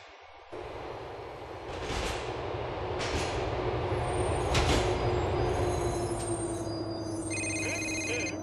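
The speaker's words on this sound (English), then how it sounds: "The train is approaching East Park Station." A subway train in the video game GTA IV draws into East Park Station with a steady rumbling roll and clacking wheels. Faint squeals and a chime-like ring sound near the end, and no one speaks.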